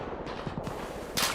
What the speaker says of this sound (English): There is gunfire.